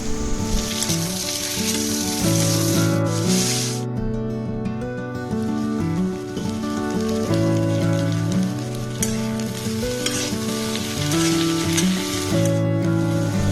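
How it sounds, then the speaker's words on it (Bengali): Ivy gourd and potato sizzle steadily in mustard oil in a wok, the hiss running under louder background music with a sustained melody throughout. "কড়াইতে একটু সর্ষের তেল দিয়ে কুদলি আর আলুকে ভেজে নেব"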